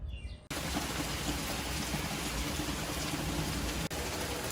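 Steady rain pours down outdoors during a tornado warning, a dense continuous hiss of drops hitting surfaces that stays loud and even throughout with no speech over it.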